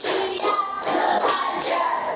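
A classroom group of students clapping hands together in counted sets, each burst a short flurry of overlapping claps separated by brief pauses, four distinct rounds, loud and close with no talking.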